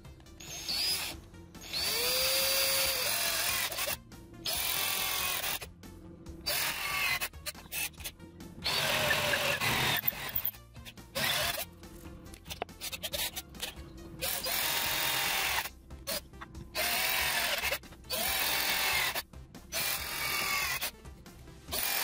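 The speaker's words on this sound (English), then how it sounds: "Let's get drilling." A power drill fitted with a wood bit bores through sheet metal on a graphics card bracket, running in repeated loud bursts with short pauses between, grinding and whining as it cuts.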